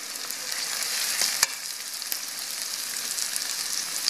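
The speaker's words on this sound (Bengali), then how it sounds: "আমি এটাকে 1 মিনিট এখন ভেজে নিব।" Chopped green chili and onion fry in hot oil with a steady, dense sizzle and crackle, broken by an occasional sharper pop and faint stirring clatter, with no voices.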